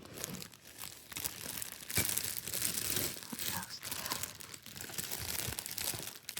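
Rattly plastic packaging being opened, with continuous close crinkling and tearing that swells and fades over several seconds, with no talking.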